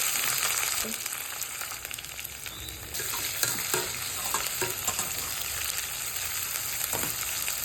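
Mustard seeds and onion frying in a pan for bale hoovina palya, a continuous close sizzle with scattered stirring scrapes and light pops throughout, no talk.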